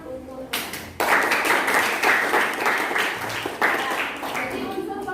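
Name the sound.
audience applause for a student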